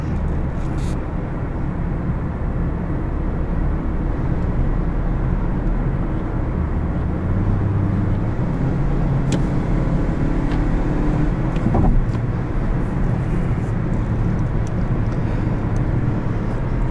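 Steady cabin drone of a 2017 Toyota Yaris iA being driven, a small car under 200 horsepower: continuous low engine and road rumble with broadband tire and wind noise, unbroken throughout and without talk.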